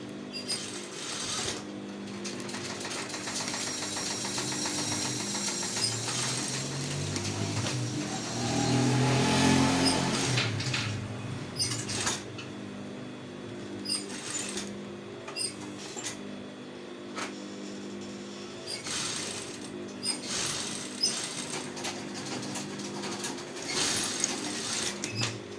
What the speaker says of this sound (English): Be very careful when sewing this.